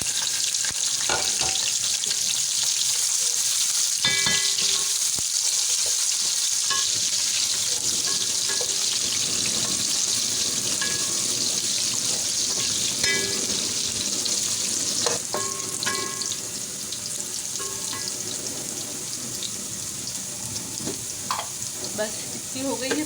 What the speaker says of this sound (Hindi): अब हम प्याज भी डाल देते हैं।